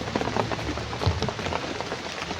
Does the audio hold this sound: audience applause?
no